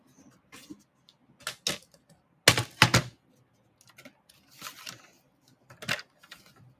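A paper trimmer slices through card with a few sharp, dry clacks and swishes, the loudest cluster in the middle, scattered quieter strokes around it, close and alone with no talk.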